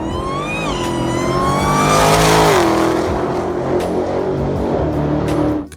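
A 2018 Dodge Demon with a 6.2-liter supercharged V8 in Forza Horizon revs and accelerates hard, its whining engine note climbing and shifting, loud and close, ending abruptly.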